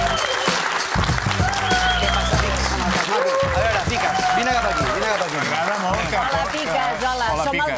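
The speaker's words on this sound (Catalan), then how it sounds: "Un aplaudiment pel mestre del beatbox" A studio audience on a Catalan TV show applauds a beatbox performer, giving dense, steady, loud clapping with cheering voices mixed in throughout.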